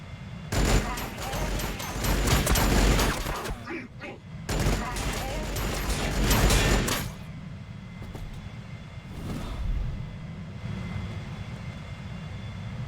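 Bolt pistols fire in a Warhammer Battlesector battle, dense loud volleys of gunfire with booming blasts in two bursts over the first seven seconds, then quieter rumbling combat ambience with a faint later shot.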